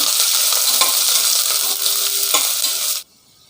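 Onion and green chilli sautéing in a pan for chicken biryani give a steady, loud broadband sizzle with occasional stirring clinks, cutting off abruptly near the end; no talking.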